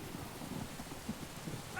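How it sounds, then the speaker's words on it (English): Steady rain falls outdoors, a soft, even hiss with faint patters, quiet and continuous with no voices. "at least it then rained"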